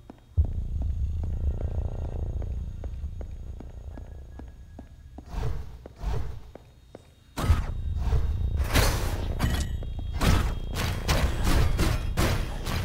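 Sniper fire in the video game Hyper Light Drifter: a quiet opening hum gives way to a run of sharp, loud broadband shots, sparse at first and then coming in a rapid, evenly spaced volley over a low rumble.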